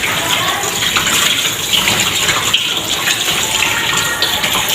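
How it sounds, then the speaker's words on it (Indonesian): Tap water gushes steadily while hands are rinsed with clean water, a continuous close splashing rush filling the whole clip with no talk. "Kemudian bilas dengan menggunakan air bersih."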